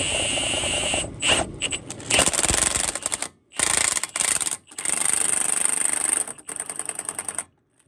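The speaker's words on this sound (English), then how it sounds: "Or you use an impact gun. Some people don't like that, but that's what I'm gonna do." Impact gun with a 32 mm deep socket removing the CV axle nut on a 2005-2012 Nissan R51 Pathfinder: loud, close bursts of rapid hammering rattle, broken by short pauses, running almost continuously until the nut comes free.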